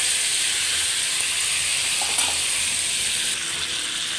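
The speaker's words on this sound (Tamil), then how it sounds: "இதை இந்த எண்ணெயில் நல்லா பரட்டி எடுப்போம்." Mango pieces sizzle and hiss steadily in hot oil as they are stirred for pickle, a close, continuous frying sound with no talk.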